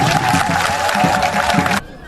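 Audience applause at a village chief's investiture ceremony in Assaoufoué, Côte d'Ivoire: dense, loud clapping from a crowd with some cheering, stopping abruptly near the end.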